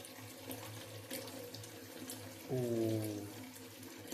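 Water runs from a tap to fill a pet's drinking bowl, a steady splashing stream that starts partway through and grows louder and brighter as it pours, with faint background noise before it.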